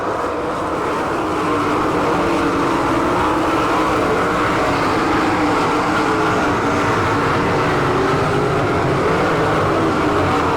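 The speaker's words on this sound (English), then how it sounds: "Johnson gets by, he's racing with Danny Smith for 6th, 7th." All Stars sprint cars race around a dirt oval at St. Clairsville, Ohio, their engines producing a loud, continuous roar that fills the track without a break and carries no talk.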